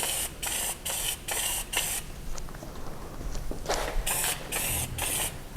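Powder coating gun spraying powder onto metalwork, loud hissing bursts sputtering in rapid on-off pulses, a quieter stretch in the middle before several more strong bursts, with no talking.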